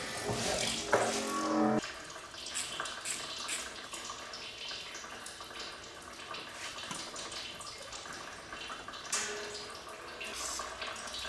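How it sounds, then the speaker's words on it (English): Sludgy engine oil draining from a BMW E38 V12 into a pan, a steady trickling pour with a brief louder splash at the start, close by, with no talk over it. "Let's get that sludgy oil out."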